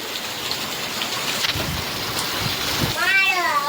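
Steady rain patters down without pause, with a few low rumbling thumps, and a brief high-pitched call near the end.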